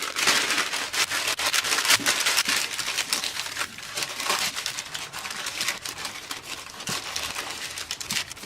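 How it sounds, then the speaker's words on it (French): Parchment paper being pressed into a buttered brioche mould, giving a close run of crinkling, rustling and crumpling with sharp little ticks and pats throughout. "on beurre le moule et on y place la feuille de papier sulfurisé"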